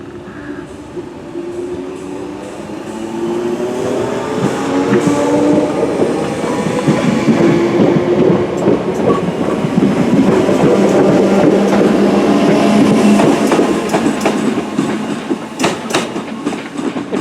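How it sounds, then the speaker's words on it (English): Southern electric unit 313210 runs as the service to Bognor Regis at Barnham station, a steady rumbling roll with wheel clatter that swells and sustains, with no talk. "Final train in this video will be the 1552 Southern Service to Bognor Regis,"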